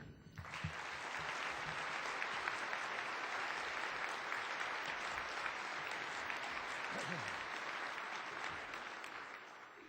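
A Rotary luncheon audience applauding to welcome Bill Gates Sr. to the podium, a sustained even wave of clapping from a large room that swells in and fades gently near the end, with no talk over it.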